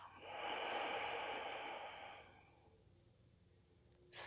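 Slow, smooth exhale lasting about two seconds during a seated yoga twist, close and soft, trailing into quiet before a brief sharp noise at the end.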